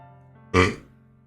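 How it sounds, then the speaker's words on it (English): A single short burp, close and fairly loud, rising suddenly out of quiet background music and fading quickly. "I just burped"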